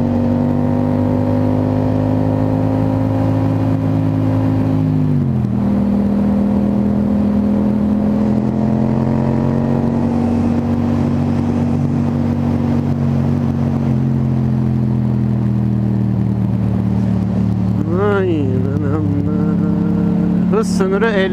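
A car engine turning over at low revs while driving on a road, steady harmonic drone that dips and shifts as the gears change, with a rising whine near the end under the continuous hum.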